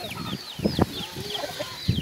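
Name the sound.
chicken clucking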